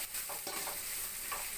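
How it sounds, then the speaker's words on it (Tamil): Onions being stirred and sautéed in a pan for upma, with a steady soft sizzle and a few scraping spoon strokes, fairly quiet and close, no talking. "நல்லா கிளறி விட்டுட்டே இருங்க."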